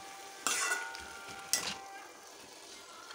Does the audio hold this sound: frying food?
yes